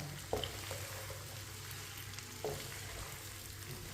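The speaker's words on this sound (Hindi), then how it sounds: "अच्छी तरह मैंने मिक्स कर लिया। अब इसे 2-3 मिनट के लिए पका लेंगे, भून लेते हैं ऐसे ही चम्मच चलाते हुए" Mixed pickle spices stirred and fried in mustard oil for a winter pickle, a steady soft sizzle with two brief spoon scrapes against the pan, fairly quiet and with no one talking.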